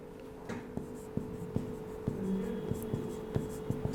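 A teacher writes on a classroom board during a chemistry lesson, producing a series of soft, regular taps and scratches over steady room hiss, fairly quiet with faint voice in the background.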